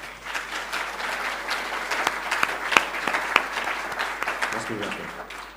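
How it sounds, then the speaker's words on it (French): Applause for jury members at a prize ceremony for a writing competition in Monaco, a fairly soft, steady patter of clapping with a few sharper individual claps standing out, and some voices faintly underneath. "On va les faire applaudir parce que là, on peut aussi."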